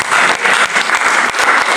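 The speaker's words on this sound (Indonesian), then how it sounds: "Beri tepuk tangan untuk Tuhan Yesus." Church congregation at a prayer and fasting gathering on Mount Salak, Bogor, breaking into a brief burst of dense, loud applause that sounds fairly close.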